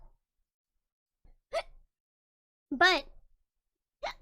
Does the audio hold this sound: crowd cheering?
no